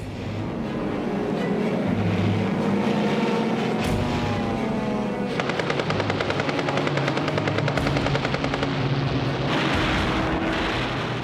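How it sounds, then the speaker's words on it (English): Military aircraft engines roar during an attack on a Japanese convoy in the Guadalcanal campaign, a loud continuous drone with rhythmic rotor-like pulsing that swells and rises in the later part, with no voices. "he scrambles aircraft to attack the Japanese convoy"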